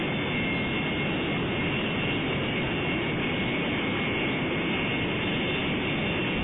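A jet engine in a flight simulator runs at full military throttle, giving a steady, unbroken roar with a dull, muffled upper end and no speech.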